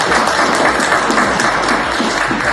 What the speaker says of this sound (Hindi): इसके लिए बड़ा जोरदार ताली होगी।